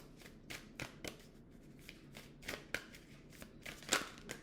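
A deck of playing cards is shuffled in a series of quick, soft riffling bursts and light taps, quiet and close, with no voices.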